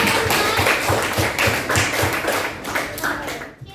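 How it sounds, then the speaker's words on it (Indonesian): A short burst of hand clapping, a small group of students in a classroom applauding with quick, even claps, close by. "kasih tepuk tangan dong hasil diskusi kalian"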